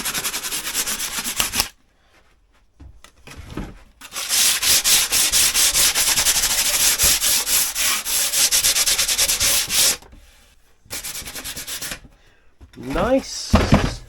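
Sandpaper rubbed over a silicone battery door gasket in loud close bursts of rapid back-and-forth scraping, separated by pauses, with brief talk near the end.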